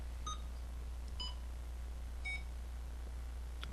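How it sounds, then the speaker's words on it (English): Electronic key beeps from a menu's Key Beep Tone setting, pitch stepping up as the value is raised. Three or four crisp, brief beeps sound at spaced intervals over a constant low background hum. "we'll raise and lower the beep tones."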